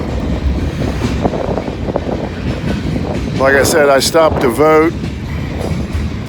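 A train led by locomotives rumbles past on a windy day, a heavy steady roar with wind buffeting the microphone, while someone talks close by over the noise.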